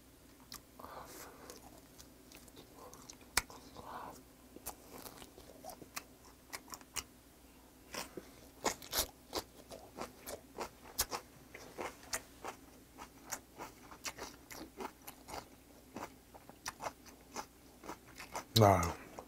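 Chewing of lamb meat eaten with rinsed aged kimchi during a mukbang, close soft crunches and wet bites in an irregular rhythm, with quiet breathy sounds between them and a brief clatter at the end.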